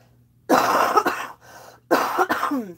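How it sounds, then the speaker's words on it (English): Two bursts of harsh, wet coughing, close to the mic, separated by a brief quieter pause with a faint background hum. "excuse me, I have to cough"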